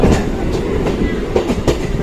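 A passenger train rolls along a sharply curving stretch of track between Lalgola and Jiaganj, giving a close, steady rumble broken by rhythmic wheel clacks throughout, with no clear talk.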